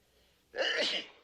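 A man sneezes once, close and fairly loud, a single sharp burst over a quiet room with no other voices.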